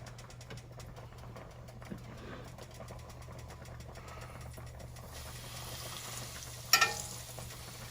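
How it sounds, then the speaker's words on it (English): Steady crackling sizzle of country fried steaks frying in a pan under a low hum, with a brief louder clatter near the end. "let's start frying these steaks"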